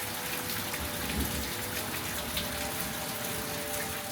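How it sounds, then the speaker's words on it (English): Heavy rain falls steadily at night, a dense, even hiss of drops on surfaces that holds at constant loudness with no voices. "It's raining a lot."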